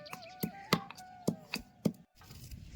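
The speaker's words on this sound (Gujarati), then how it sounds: "જો ઝીણી ઝીણી ડુંગળી કપાવવાની શરૂઆત થઈ ગઈ છે" A knife chops onions finely on a wooden board in a village kitchen, about seven crisp, evenly spaced strikes close up, followed by a short pause and then softer activity, with no talking.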